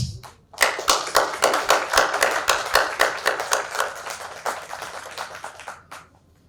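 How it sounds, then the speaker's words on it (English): Audience applause at a business awards ceremony in Bhopal, many hands clapping steadily and fairly close, then fading out to quiet near the end. "And a huge round of applause."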